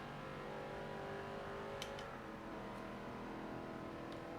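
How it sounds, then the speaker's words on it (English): Car engine revving in the racing video game Forza, a steady droning motor tone that holds at a fairly even level throughout, with a few brief higher clicks over it. "just revving the engine."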